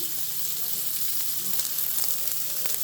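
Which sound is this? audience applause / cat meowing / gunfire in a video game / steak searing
steak searing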